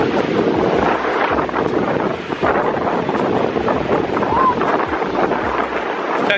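Waves breaking along a lake shore in Ontario under strong, gusting wind that buffets the microphone with a loud, constant roar. People talk over the noise.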